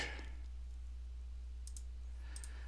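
A few faint computer mouse clicks, a soft single tap at the start and two quick pairs of clicks later, heard close against a low steady hum.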